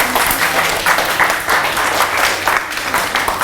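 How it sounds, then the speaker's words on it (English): An audience at a children's museum holiday event applauds for staff, steady sustained clapping from many hands filling the room at close range without a break. "Big round of applause for them."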